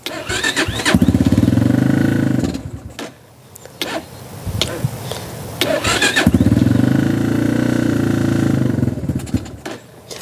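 A Honda XR150 motorcycle with a rusted chain and a suspect carburetor is started and runs loud and close, engine bursts rising and dropping with a brief lull in between.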